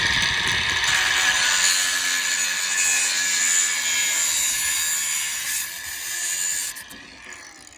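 A metal roof bar for an LDV G10 roof rack being cut to size: a loud, continuous, high-pitched grinding whine runs for several seconds, wavers slightly, then tapers off near the end with no voices.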